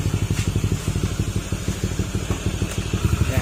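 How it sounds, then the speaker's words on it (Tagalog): An overheated scooter engine with an aftermarket part idles close by, a steady rapid putter of regular low pulses without any voices. "tahimik naman yung makina"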